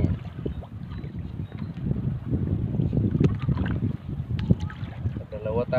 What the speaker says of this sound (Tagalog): kay lakas na yung hangin.